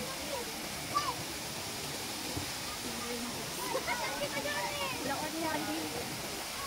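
Lubong-Nangoloan Falls in Zambales pours as a steady, moderately distant rush of falling water, with faint voices and a few small bumps mixed into the wash.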